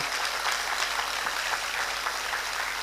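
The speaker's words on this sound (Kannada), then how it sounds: "ಯಾವತ್ತೂ ಸ್ವಲ್ಪ ಜೋರಾಗಿ ಚಪ್ಪಾಳೆ ತಟ್ರಿ, ಮಳೆ ಬರೋ ಥರ ಇರಬೇಕು" An audience at a classical dance academy performance claps in a dense, sustained round of applause, steady and loud like falling rain, with no break throughout.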